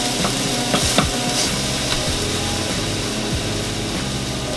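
Loud, steady sizzling of shrimp frying in a hot pan, with crackling spatter and a few scraping stirs.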